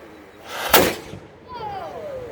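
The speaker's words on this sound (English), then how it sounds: "This is our ignition device that would allow us to ignite this cannon again and again in battle." A historic cannon at Fort Mackinaw fires once during a demonstration, a single sharp boom that rolls away into a fading echo, with faint crowd murmur around it.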